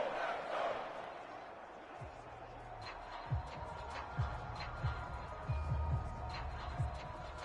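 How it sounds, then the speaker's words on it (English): A stadium crowd in the Madden 23 football video game roars steadily throughout, a broad continuous swell of noise with a few louder thumps and surges rising through it. "Crowd getting in it a bit already."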